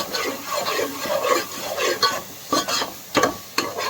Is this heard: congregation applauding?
no